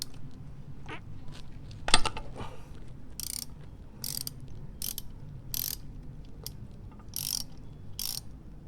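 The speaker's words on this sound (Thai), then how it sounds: "เราต้องมาถอดตรง น็อตถ่ายน้ำมันเครื่องในเราใช้บล็อกเบอร์ 17 นะครับ" Ratchet wrench with a 17 mm socket working an engine oil drain bolt during an oil change, giving several short bursts of rapid metallic clicking spaced a second or so apart, close and distinct over low background noise.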